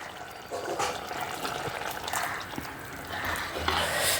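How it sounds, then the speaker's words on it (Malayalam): Thick first-extract coconut milk is poured into a mango curry over lowered heat, a soft continuous liquid rush and trickle heard close up and alone. "തീ ഒന്ന് കുറച്ച് വെച്ചിട്ട് 1-ാം പാൽ ഒഴിക്കുവാണേ"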